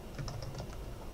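Quick, light clicking of fingers typing on a computer keyboard, a handful of close keystrokes in a brief burst with no talk.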